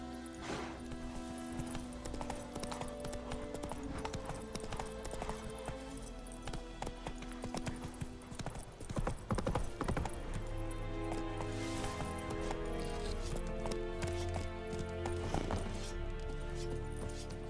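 A horse gallops in The Witcher 3, its hooves beating a fast, repeated clip-clop over a steady game background, with a short whinny and faint voices mixed in.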